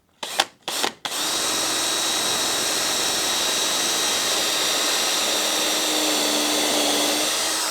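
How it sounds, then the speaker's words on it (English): A battery-powered drill gives a few short bursts, then runs in a long, loud, steady whir while driving a screw into a model railroad backdrop. "I've got my trusty battery-powered drill"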